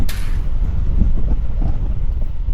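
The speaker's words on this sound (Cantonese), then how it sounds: "大風啊！" Strong wind buffets a cyclist's microphone with a loud, continuous low rumble and roar, steady throughout and alone without voices.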